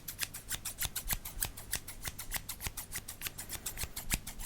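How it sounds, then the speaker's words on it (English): Rapid, steady snipping of scissors close by, with sharp crisp cuts repeating in quick succession throughout and no talking. "I'm not going to poke you with scissors because that's dangerous."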